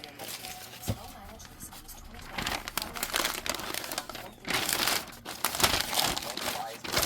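Paper crinkles and rustles up close as it is folded around drinking glasses, in irregular bursts that grow louder toward the end, while a person talks over the handling.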